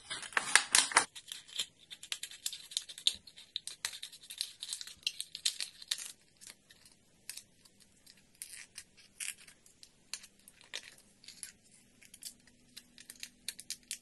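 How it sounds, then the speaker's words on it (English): Sharp scissor snips cut through a crinkly plastic bottle, a dense burst of crackling at first, then scattered cuts and rustles at close range. "So let's start with cutting our bottle."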